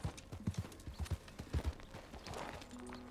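Horse hooves clip-clop in a quick, even rhythm in the video game Red Dead Redemption 2, a dozen or so close hoofbeats that fade into a faint background hum.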